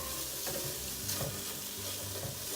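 Minestrone vegetables sizzle steadily in a frying pan, a constant close hiss and crackle with occasional stirring.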